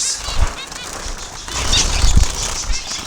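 Zebra finches flutter inside an indoor aviary in a building, with quick bursts of close wingbeats and a few faint chirps among them.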